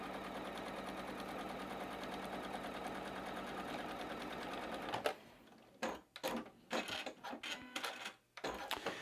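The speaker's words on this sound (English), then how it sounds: "drop the presser foot again, and sew on the other side of my marking line." A sewing machine stitching quilt patch fabric runs in a steady, continuous whir for about five seconds, then breaks into short stop-start bursts of stitching with brief pauses between them.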